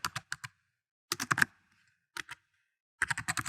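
Someone types a street address on a computer keyboard in short bursts of crisp key clicks separated by brief pauses, close and clear, with no talking.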